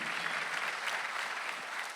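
A church congregation at a Sunday service claps in a soft, even, continuous patter of many hands, heard from some distance, with no voices over it.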